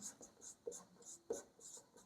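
Chalk or marker writing on a board during a linear algebra lecture, a run of short quiet scratchy strokes in an uneven rhythm, each stroke a soft rasp, close and faint with no talk over it.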